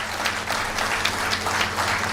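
Audience at a Madurai Muthu comedy pattimandram debate clapping, a dense, even round of applause with a low steady hum beneath it.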